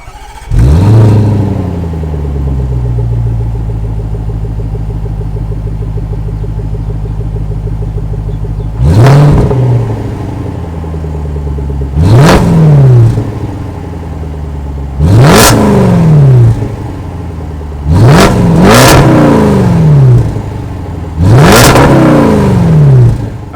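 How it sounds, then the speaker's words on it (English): The 5-liter supercharged V8 of a 2022 Range Rover Sport Autobiography cranks and catches, then settles into a deep, loud idle. Five sharp revs follow, each swelling and dropping back, the last ones coming in quick succession. "that was of course the sound of the 5-liter supercharged V8 sold by Land Rover Range Rover"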